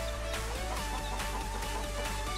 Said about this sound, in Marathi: टोटल 4 निघालेत मानकापी कोंबडी पिल्लं